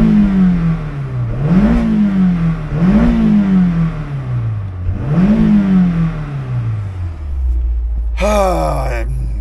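A 2002 Honda S2000 AP1 engine revs three times in rising, falling sweeps, then settles to a steady idle before a short high, whining burst at the end; loud and close.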